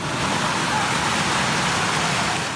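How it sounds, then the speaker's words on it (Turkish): Heavy rain pours down steadily in a downpour in Akyurt, a dense, loud, unbroken hiss with no pauses and no voices. "Akyurt sağanağa teslim oldu."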